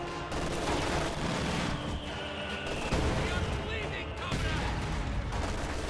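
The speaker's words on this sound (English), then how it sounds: "Mortars being exchanged back and forth." Mortar fire trades back and forth in a strategy video game, dense overlapping booms and blasts layered into a loud, continuous barrage of battle noise.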